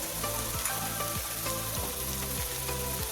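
Ground coriander, garam masala and red chilli sizzle as they fry in hot oil for paneer bhurji, a steady dense crackle with occasional stirring scrapes, close and continuous with no voices.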